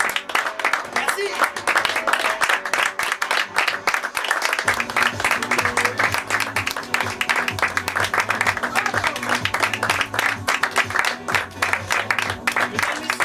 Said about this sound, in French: j'aimerais qu'on applaudisse très très fort pour leur participation au spectacle Roger et Steve